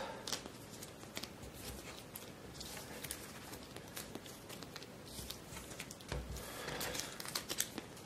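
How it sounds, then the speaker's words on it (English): Event cards for a solo wargame-style board game are shuffled by hand, a soft, steady riffling and papery crinkling that runs close and quiet throughout, with no talk. "so let's shuffle the events now."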